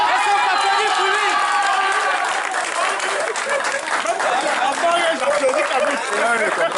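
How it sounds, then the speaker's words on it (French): A crowd in a hall applauds a speaker at a doctoral thesis defense, dense sustained clapping with chatter and voices mixed in, loud and continuous throughout. "Est-ce qu'on peut applaudir pour lui?"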